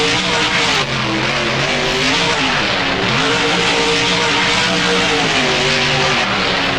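In the BeamNG driving game, a monster truck's engine roars loudly and continuously with shifting revs as it crashes and bounces through a freestyle run.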